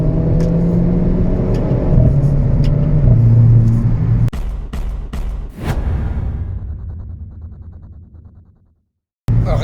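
Renault Clio RS 18 engine, a loud, close drone held under load and then several sharp gear-change breaks, followed by the revs winding down into silence and a sudden return.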